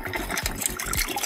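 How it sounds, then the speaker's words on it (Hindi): Hot water runs steadily out of a homemade water heater, a continuous close splashing flow with small irregular gurgles throughout. "यहाँ पर गाइस आप देख सकते हैं काफ़ी गर्म पानी यहाँ पर निकल रहा है"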